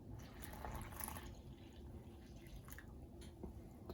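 Water pours into a bowl of flour while mixing sourdough bread dough at 70% hydration, a soft faint trickle and drip running steadily close by with no talk.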